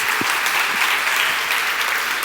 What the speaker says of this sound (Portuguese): Então dê uma salva de palmas pela vida de vocês, pelo tamanho da fé de vocês.